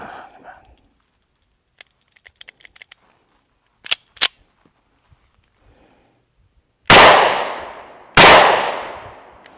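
Two loud, sharp gunshots from an ATI Moxie FXH45 hybrid 1911 pistol ring out close by in quick succession near the end, each with a long decaying tail, after a stretch of quiet clicks and handling noises.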